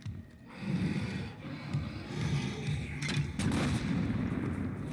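Explosions and gunfire in the video game Heartland, a series of muffled booms and blasts rising and falling in loudness over a rumbling bed, with a sharper burst near the end.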